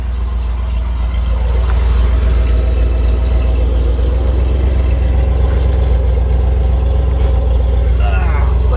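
A 1996 Ford F-350 pickup with a new engine idles at the exhaust, a loud steady low rumble running throughout with faint mechanical ticking on top.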